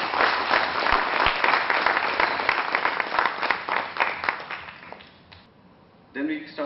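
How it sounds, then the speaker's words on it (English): Audience applause at a business panel discussion on technology for small companies, a dense steady round of clapping that fills the room for about five seconds, then fades out before a brief sound at the end. "Can we have some applause?"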